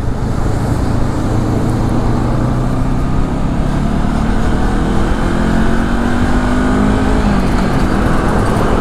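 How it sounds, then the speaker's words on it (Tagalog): Slow city traffic heard from a moving Honda CL500 motorcycle on a road under widening, a loud steady roadway rumble with engine drone and passing vehicles, no talking. "Mabagal yung traffic"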